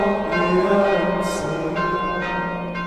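Monastery church bells ring from the bell tower with a rich, sustained resonance, several overlapping strikes blooming and decaying in a steady peal, loud and alone without voices.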